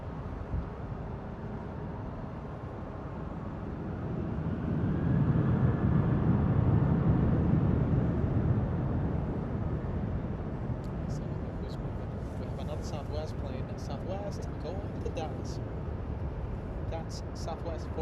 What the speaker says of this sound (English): Spirit Wing 1636 flying in from Vegas